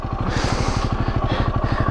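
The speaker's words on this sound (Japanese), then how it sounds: "もう気になって気になってずっとエンジンかけてた。" A touring motorcycle idles beside a bushy roadside in Hokkaido, its engine thumping in a steady even rhythm close to the microphone, with no talking over it.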